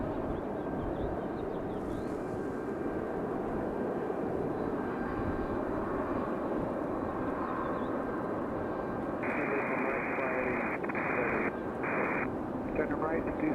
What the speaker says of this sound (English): That's American Airlines 2693. That A321-200 right there in the center of your screen.